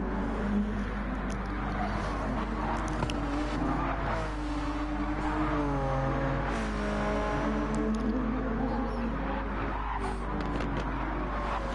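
Race car engines roar continuously at Spa in a PS4 racing game, with revving, shifting pitch and occasional tire squeal as cars run close together, loud and steady throughout with no talk.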